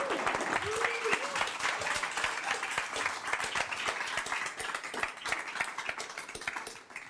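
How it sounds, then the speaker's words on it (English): An audience at a pitch showcase event applauds with dense, sustained clapping that holds steady for several seconds before tailing off slightly at the end. "please give a round of applause to everyone"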